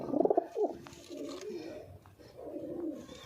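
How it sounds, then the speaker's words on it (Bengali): Pigeons nesting over their eggs coo nearby in a few throaty, rolling calls, loudest at the start and then softer, low murmuring coos. "আরো পায়রা আছে, দেখাচ্ছি। এখানে আছে, এই দেখো, ডিম দিয়েছে এরা পায়রাগুলো।"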